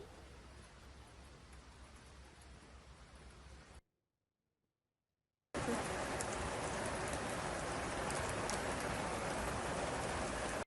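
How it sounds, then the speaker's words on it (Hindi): Heavy, continuous rain pours down in Moscow during flooding, a dense steady hiss that is loud and unbroken apart from a short silent gap midway. "इधर मॉस्को में लगातार झमाझम बारिश के बाद कई इलाकों में बाढ़ आई है।"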